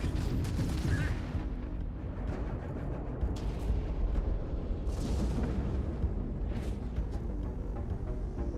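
Explosions in the video game Starfield during an attack: a continuous roaring, rumbling barrage with several sharper bursts breaking through, loud and close, with no speech.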